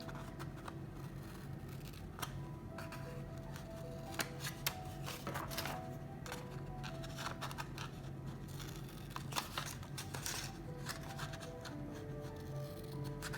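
Scissors snip small triangles out of folded paper card, a quiet series of irregular, crisp clicks and cuts with soft paper rustling between them, close by.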